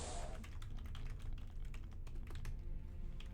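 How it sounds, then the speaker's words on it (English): Rapid clacking keystrokes on a computer keyboard while entering cheat codes for Jedi Knight II: Jedi Outcast, an uneven stream of close taps over a low background hum, no talking. "Maybe because I'm typing in all caps."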